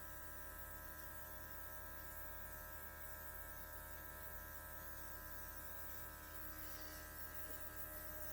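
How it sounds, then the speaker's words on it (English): A Luminess airbrush runs continuously near the face with a faint, steady electric hum and buzz, low in level and unchanging throughout. "you could just sit here and use the air that's coming out to blow your face"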